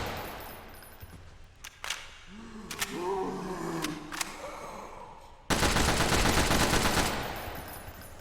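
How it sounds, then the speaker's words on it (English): An assault rifle fires in a Unity zombie game: a few sharp single shots over a growling, roaring background, then a loud sustained burst of rapid automatic fire that cuts off abruptly near the end. "this assault rifle's fun"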